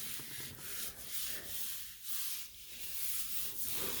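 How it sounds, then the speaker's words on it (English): Paint is rubbed into a stencil on a gel plate, giving close, rhythmic hissing strokes in repeated waves of about half a second each. "Really rubbing it in that stencil."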